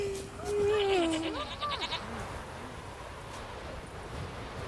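Sheep in The Witcher 3: Wild Hunt bleat once in a wavering, fairly close call, then fade into soft outdoor wind-like ambience.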